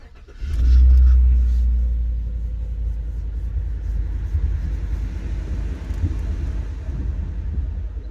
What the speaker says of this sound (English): Go ahead and fire the truck up here.